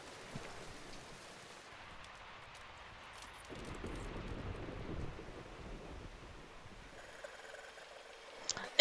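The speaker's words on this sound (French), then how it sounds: "Et donc, on a un orage et un déluge." Heavy rain and storm wind in the survival game Diluvian Winds, a steady broadband wash that swells louder midway and holds as a dense, rushing roar, with no voices.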